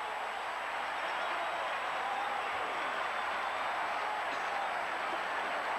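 A packed stadium crowd roars in a steady, dense wash of cheering as fans surge onto the field after Iowa beats Ohio State in a 1983 college football game in Iowa City, the noise loud and continuous throughout.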